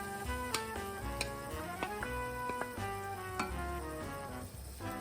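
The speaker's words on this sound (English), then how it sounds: "we're going to saute it for about 6 minutes until the onions become soft" Onions sauté in a pan for a bourbon molasses barbecue sauce, a quiet steady sizzle with a few light clicks and taps of a utensil, with no talking.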